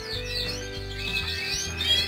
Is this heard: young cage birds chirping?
yes